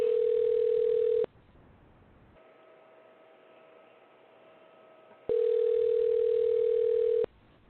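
A telephone line gives a steady dial-style tone in two long bursts with a quieter ringback-like hum between them, clean and close, with no talk.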